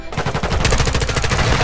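Rapid automatic gunfire rattles close and loud in Call of Duty Modern Warfare 2, a dense unbroken burst of shots lasting under two seconds.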